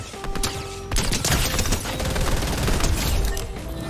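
Rapid burst rifle fire from a Fortnite match with a scoped weapon, a dense, loud, continuous volley of shots lasting several seconds with game tones in the background.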